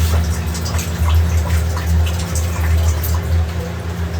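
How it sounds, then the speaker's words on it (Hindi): A water tap left running in a home kitchen gives a continuous splashing flow over a steady low hum, loud and close throughout. "नल खुला रह गया था।"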